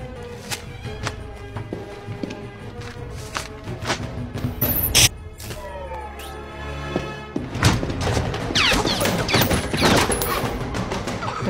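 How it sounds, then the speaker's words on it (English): Gunfire in a Bourne Supremacy action film crackles as scattered shots and bursts amid thumps, footsteps and dramatic film sound, fairly loud and busy throughout. "Those are shots."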